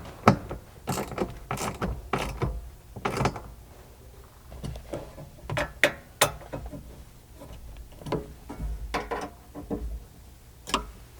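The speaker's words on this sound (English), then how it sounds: "begin tightening up the rest of the hardware" Bracket hardware on a Land Cruiser 80 Series rear window MOLLE panel is tightened with a ratchet, giving irregular sharp clicks and metallic taps, some in quick clusters, close up with short quiet gaps.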